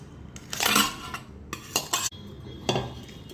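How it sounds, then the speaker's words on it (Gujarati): Boiled broken rice is mashed in a pot for Gujarati ghens, with a few close, bursting scrapes and clinks of a utensil against metal separated by short pauses. "ને મેશ કરી દઈશું."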